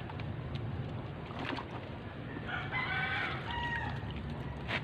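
A large hen being bathed with soap clucks and crows, the calls rising midway over a constant background of splashing water, fairly close; no one speaks.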